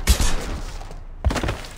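Gunfire in the video game Mass Effect 2: two short loud bursts of shots separated by a brief silence, close and punchy.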